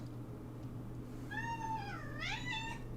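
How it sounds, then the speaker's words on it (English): A cat meows twice in a quiet interior with a steady low hum, the first call drawn out and the second rising and wavering, fairly faint and with no talk over it. "There's a cat."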